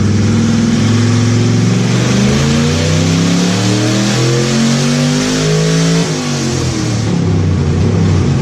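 A Ford Crown Victoria V8 on a dyno with open headers, cats and mufflers pulled, revs hard and loud, climbing through a long pull, dropping briefly, then rising again, raw and unmuffled.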